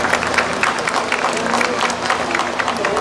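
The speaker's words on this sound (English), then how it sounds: "Let's give all these goat exhibitors a big round of applause." Audience applause for goat exhibitors at a junior livestock show in Bailey County, a dense, steady round of crowd clapping heard up close.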